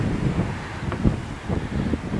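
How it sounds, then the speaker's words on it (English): Gusty wind blowing through a garden, a low rumbling buffet across the microphone with a few stronger gusts, steady throughout and with no talking. "Oh, listen to that wind."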